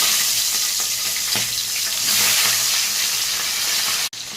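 Hilsa fish heads fry in hot oil with a steady, loud sizzle and bubbling that runs throughout, briefly cut off near the end.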